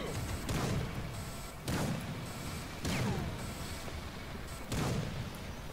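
A Serious Sam 2 sniper rifle fires four loud, well-spaced shots, each a sharp crack with a booming tail, over a constant noisy battle background.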